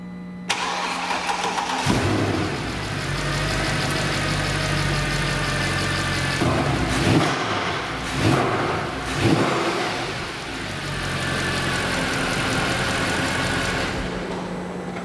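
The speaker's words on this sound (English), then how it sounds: "Engine sounds completely normal, idling fine." A Mercedes C63 AMG V8 engine cranks and catches on its first start after an intake valve replacement, then settles into a steady, close idle with a couple of brief revs partway through.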